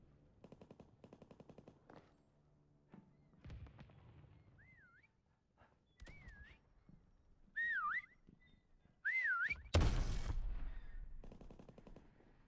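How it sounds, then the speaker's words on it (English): Whistling in a battlefield video game, several rising and falling whistled tones amid rapid machine-gun bursts and loud gunfire crackle, ending in a heavy burst of noise. "Never heard a pigeon whistle."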